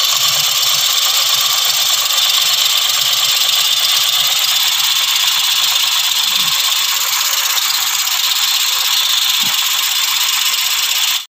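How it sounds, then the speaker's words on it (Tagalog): A 2015 Honda City engine idles loudly and steadily up close, misfiring from a loose ignition coil connection, with a rough, uneven rattle and occasional stumbles in its rhythm. "Ito po yung andar ng makina."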